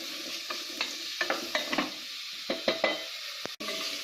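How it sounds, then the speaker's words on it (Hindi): Onions sauté in a pan with a soft steady sizzle, broken by repeated clinks and scrapes of a stirring spoon at an uneven pace, close up and with no talking. "आपको अनियन को थोड़ा सौते करना है ताकि ये थोड़ा पिंक कलर में आ जाए"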